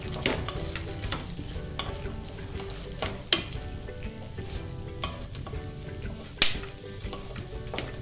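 Sweet gund pak mixture with raisins being stirred in a hot pan, a continuous sizzle under scraping and clinking of the spoon against the pan, with a few sharper knocks.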